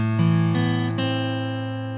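Acoustic guitar playing the opening arpeggio of a song, single plucked notes ringing out one after another and sustaining as they fade, played close and alone with no talking.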